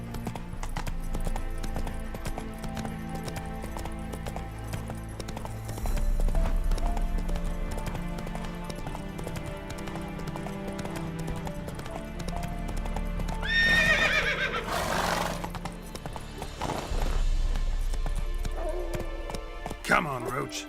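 Rhythmic hoofbeat clip-clops of a galloping horse in The Witcher 3, steady and close under game music, with a whinny partway through and a voice talking to the horse.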